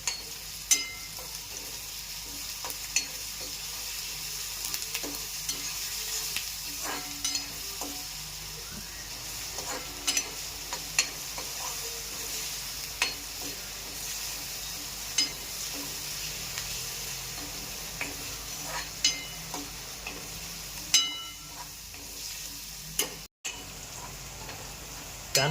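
Paste sautéing in a pan for veg pulao, a soft continuous sizzle broken by sharp spoon scrapes and taps as it is stirred at irregular intervals, with no talk over it.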